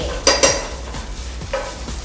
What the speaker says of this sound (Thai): ผัดไปเลยผัดเลยค่ะ